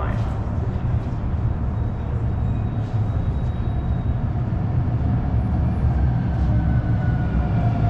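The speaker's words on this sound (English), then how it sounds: "The next 69th Street train is arriving." A Calgary CTrain light rail train arrives at a downtown station with a low, steady rumble and rolling noise, and faint tonal whines sit above it for several seconds.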